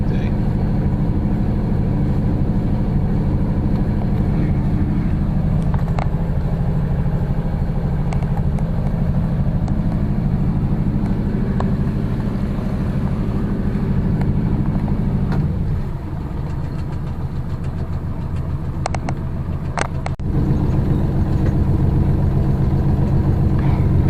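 A Ranger Tug 21 boat's engine drones steadily at close range while cruising through Mystic harbor on the Connecticut shoreline, a continuous low rumble with water wash and a brief dip in the middle.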